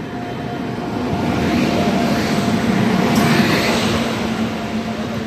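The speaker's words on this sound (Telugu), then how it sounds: "ట్రైన్ వచ్చేసి ప్లాట్ఫామ్ నెంబర్ 4 మీద అయితే ఉంది." A Secunderabad–Sirpur Kagaznagar SF Express hauled by a WAP-7 locomotive with LHB coaches stands at platform 4, heard as a steady, fairly loud station rumble with a low engine hum throughout and no speech.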